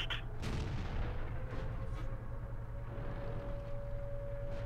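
Tank gunfire in World of Tanks, with a KV-1 firing its HE gun: a sharp blast near the start over a steady low engine rumble and constant hum, with a few fainter impacts later.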